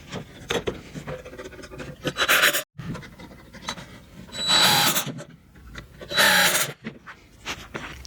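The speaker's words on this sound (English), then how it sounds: "we're just gonna go ahead and drive these screws into place" A power drill drives screws into wood while a patio bench is built, giving three loud whirring bursts of a second or so each, set among lighter knocks and handling clatter close by.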